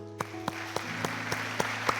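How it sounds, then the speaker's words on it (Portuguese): A church congregation claps in a steady, evenly spaced beat, about eight sharp claps over sustained keyboard-like tones. "Vamos aplaudir a ele de novo?"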